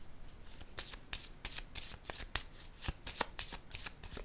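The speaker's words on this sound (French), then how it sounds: "Je vais déposer une carte sur la solitude" Cards are handled and shuffled for a card reading, with close, soft, rapid riffling flutters and snaps repeating in quick irregular bursts.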